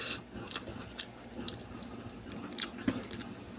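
Someone eating and chewing food, likely boiled greens with fried fish, close-up crunchy bites and moist mastication repeating steadily over low background noise.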